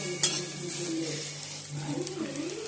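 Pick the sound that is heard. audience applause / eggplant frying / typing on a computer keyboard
eggplant frying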